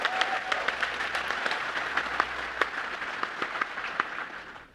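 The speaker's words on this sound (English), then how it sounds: "he is really applauding the team" Applause from an audience for the Optimus humanoid robot team at Tesla's AI Day, a steady wash of clapping with scattered sharper claps, fairly distant and unbroken throughout.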